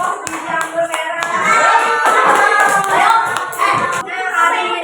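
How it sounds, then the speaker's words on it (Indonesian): Classroom clapping for a student group during a teaching-practice discussion lesson, a busy patter of many hands that runs unbroken and fairly close for the whole stretch. "Kasih tepuk tangannya."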